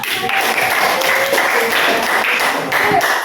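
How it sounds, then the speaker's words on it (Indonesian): Classroom audience clapping for students, a dense burst of hand claps lasting a few seconds, fairly close and even in loudness. "Kasih aplaus dong."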